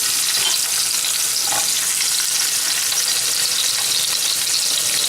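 Portobello mushrooms fry in butter or oil in a pan over moderate heat, giving a steady, close, continuous sizzle with faint crackles and no voices.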